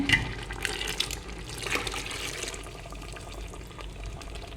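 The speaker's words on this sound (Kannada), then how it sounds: "ನೀರು ಹಾಕ್ತಿದ್ದೇನೆ" Water pours into a pot of Kundapura-style chicken curry, a steady broadband gush and splash that runs for several seconds at moderate loudness with no talking.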